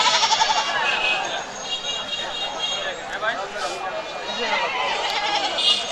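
Native desi goats bleat amid a busy, noisy crowd, with people talking throughout at a livestock market.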